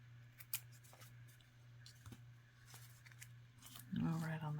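Scissors snip at paper for a simple Jesse Tree craft, giving a few sharp, close cuts over a steady low hum before a voice speaks briefly near the end.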